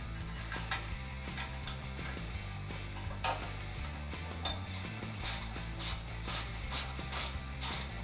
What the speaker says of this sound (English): you're gonna need a 10mm wrench.